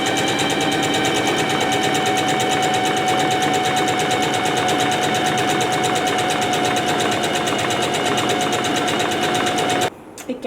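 Sewing machine running at a steady fast rhythmic clatter, loud and close for about ten seconds, then stopping abruptly with a brief clunk at the end.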